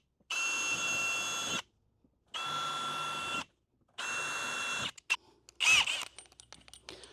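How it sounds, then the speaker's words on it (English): A power drill drilling into metal runs in three long, steady whirring bursts with short pauses between, followed by some clattering and handling noises. "a soft stopping point to where I don't drill all the way through the metal"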